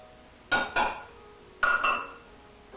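Rice stirred in a pan with butter and onions gives two pairs of clinking scrapes against the pan, close and fairly quiet, with a pause between the pairs and no talk.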